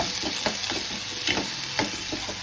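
Chopped green onion stalks stirred in a hot cooking pan, steady sizzling with repeated scraping stir strokes, close and moderately loud, no talk.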